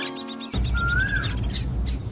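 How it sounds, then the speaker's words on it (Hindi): Birds chirp in a tree, a quick run of bright repeated tweets with a sliding whistle, fairly close and clear over a low background hum. "ऊपर उस पेड़ पर कितनी सुंदर चिड़ियाएं बैठी हैं"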